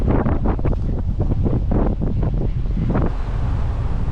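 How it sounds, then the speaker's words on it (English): Strong wind buffets the microphone aboard a boat on an overcast day, a steady low roar with gusty surges throughout and no voices. "the wind is blowing too much"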